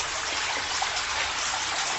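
Water from an opened tap pours steadily into a collection bucket at an urban farm, a constant close hissing rush with no breaks.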